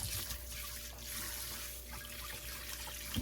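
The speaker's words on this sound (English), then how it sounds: "over here in my sink, I have that other bowl I was using, and I'm gonna rinse it out" Water runs from a kitchen sink tap to rinse out a mixing bowl, a faint steady trickle and splash close by with slight variations as the bowl moves under the stream, no voices.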